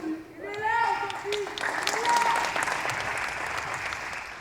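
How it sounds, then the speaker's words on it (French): Applause from an audience at a women's championship match swells and continues as a dense wash of clapping, with a voice speaking briefly at the start. "On peut l'applaudir bien fort, s'il vous plaît."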